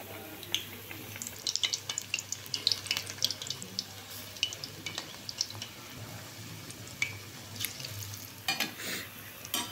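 Cauliflower pakoras dipped in gram batter frying in oil over a medium flame, with a faint irregular bubbling and crackling that rises and falls in uneven bursts.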